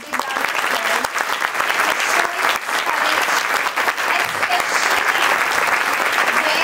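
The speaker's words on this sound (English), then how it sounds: "So can we please give them a big round of applause?" A school annual day audience applauds continuously, a dense steady clapping that fills the room for several seconds.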